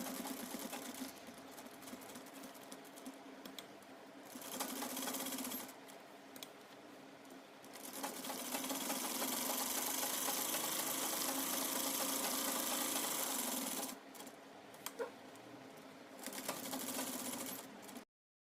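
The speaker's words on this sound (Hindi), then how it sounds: "कॉलर के कॉर्नर से हमें 5 इंच के फासले पे फिर से एक सिलाई लगा लेनी है।" Sewing machine stitching the collar of an umbrella-style frock, running in steady whirring bursts with a long continuous run in the middle, close and clear, broken by brief stops and restarts.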